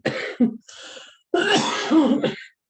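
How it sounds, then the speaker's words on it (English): A person coughs and clears their throat in a few loud, close, raspy bursts, one short fit followed by a pause and then a longer, gravelly throat-clearing. "I have a cough that Never goes away."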